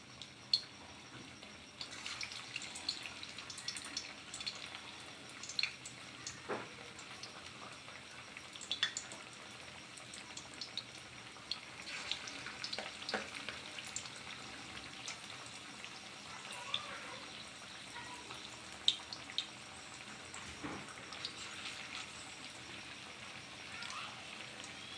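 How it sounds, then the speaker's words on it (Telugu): Mutton keema vadas deep fry in a kadai of oil over medium-low flame, giving a soft, steady crackling sizzle with scattered pops and bubbling, fairly faint and continuous. "ఒక్కొక్కటిగా డీప్ ఫ్రై చేసుకుందాం"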